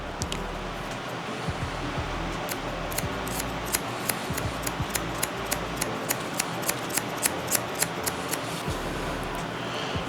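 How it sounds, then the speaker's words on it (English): Barber's scissors point cutting curly hair, a rapid series of crisp close snips in an irregular rhythm over a soft steady hiss. "we're gonna point cut this"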